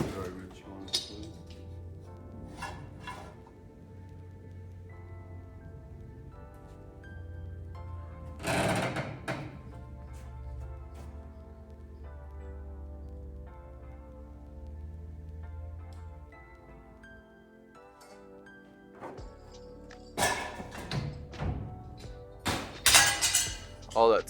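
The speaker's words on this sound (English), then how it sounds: "And I break this glass." A glass breaks amid household clutter, with clinking and shattering bursts scattered over a steady low hum, plus a louder cluster of crashes near the end.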